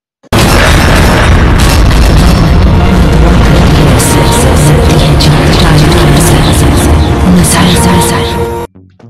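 A loud, sustained boom of a bomb explosion in a video game, a heavy rumbling blast that fills the whole stretch before cutting off abruptly.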